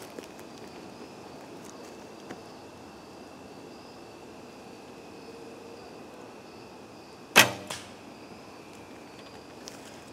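An arrow from a Samick Sage recurve bow is loosed through a couple of branches at about 20 yards, one sharp snap followed by a quick second impact amid quiet outdoor ambience.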